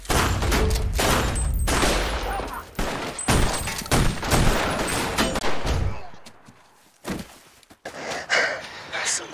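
Loud, close bursts of gunfire crack in quick clusters, then a quieter gap before a few more scattered shots, with sharp breaths or gasps mixed in between the volleys.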